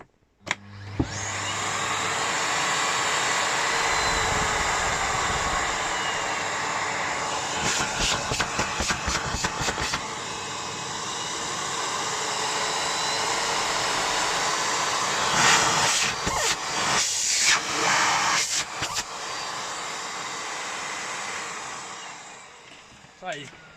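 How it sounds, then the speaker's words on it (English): A Miele Complete C3 Cat and Dog vacuum cleaner with a new bag and filters runs loudly for the whole stretch, a steady powerful whine that shifts with bursts of rattling as it works. "These vacuum cleaners are very powerful, more liable to suck the carpet off your floor."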